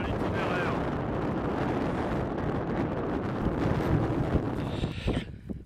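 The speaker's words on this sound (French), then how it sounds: "Juste faire attention aux rafales de vent aujourd'hui." Strong gusts of wind sweep across an exposed mountain ridge between Jallouvre and Pointe Blanche, a steady loud roar buffeting the microphone that eases slightly near the end.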